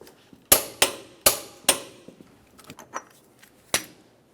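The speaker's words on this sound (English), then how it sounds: "Now we can torque this to 180 foot-pounds." A torque wrench tightens a lower ball joint nut on a 1994-2002 Dodge Ram 2500, giving several sharp metallic clicks and clacks up close, spaced unevenly, with fainter knocks between them.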